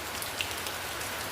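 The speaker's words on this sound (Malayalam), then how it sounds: "നല്ല മഴയാണ്." Heavy rain at Guruvayur falls in a dense, steady hiss of drops striking surfaces, continuous and fairly soft, with no voices.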